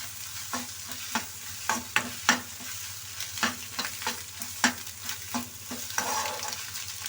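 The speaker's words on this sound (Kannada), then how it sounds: "ಅದಕ್ಕೆ ಚೆನ್ನಾಗಿ ತಿರುಗಿಸ್ತೀವಿ" Egg bhurji fries in a pan under a soft sizzle, while a spatula scrapes and taps the pan in quick, irregular strokes close by.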